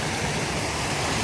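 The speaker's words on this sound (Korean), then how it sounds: "지금 영상을 찍는데 이 소리 물소리 들리시죠?" Clean stream water flowing down a mountain valley on Chiaksan, rushing in a steady, close broadband wash with no talking over it.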